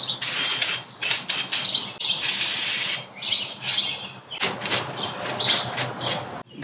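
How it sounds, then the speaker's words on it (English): Loud aerosol brake cleaner spraying in several long hissing bursts, close to the listener, separated by short pauses, during a Jeep Wrangler TJ roof rack build. "I'm just going to use brake cleaner, spray it down, give it a quick wipe."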